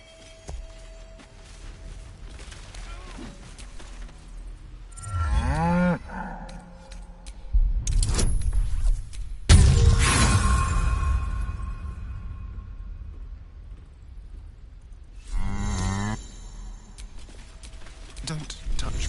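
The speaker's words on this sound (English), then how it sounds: "That cow just getting inside." A cow in the video game Baldur's Gate 3 lets out a couple of drawn-out moos amid game ambience, footsteps and loud rumbling effects, with character voices speaking around it.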